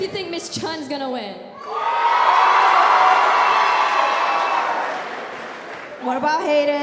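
A school show audience of students cheers loudly for a contestant in a wing-eating contest, a sustained roar of shouts and whoops after a host talks over a noisy room, with speech returning at the end.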